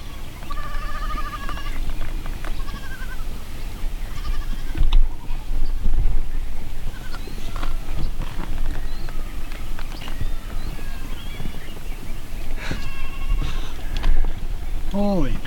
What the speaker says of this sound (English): there's goats everywhere.